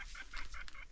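A chicken clucks in a forest during a hunting trip. The short clucks repeat in a quick, even rhythm and sound quiet and somewhat distant.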